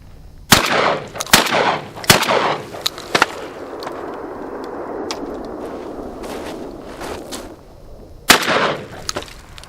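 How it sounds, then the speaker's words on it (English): Shotguns fire rounds outdoors in loud, sharp blasts: a cluster of several shots close together at the start, then a lull with background noise, then one more blast near the end. "Let me shoot a few rounds and get home, clean these guns."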